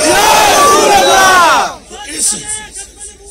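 A large crowd shouts religious slogans in unison, answering a leader's call at a religious gathering; a loud, dense roar of massed voices lasts a second and a half, then drops to scattered, quieter shouts.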